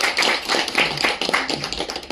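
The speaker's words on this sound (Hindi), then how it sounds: "अलकेश भाई के लिए एक जोरदार तालियां सर।" An indoor seminar audience bursts into dense, close applause, a lively patter of many hands clapping for a couple of seconds with no talk over it.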